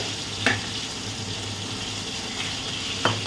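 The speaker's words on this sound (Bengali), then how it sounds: "আমি বই হাতা দিয়ে খুন্তি দিয়ে মাছগুলোকে উল্টে উল্টে তেলের মধ্যে ধরছি" Fish fries in a little oil with a steady, close sizzling hiss, and two brief metallic clinks come as a spatula turns the pieces.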